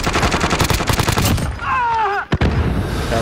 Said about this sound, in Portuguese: o parceiro dele me atirando também